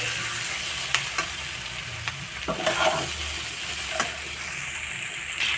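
Pointed gourd and potato pieces with grated ginger being stir-fried in a pan for a Bengali vegetarian dish: a loud, continuous sizzle broken by scraping clicks of the spatula stirring, heard alone without any voices.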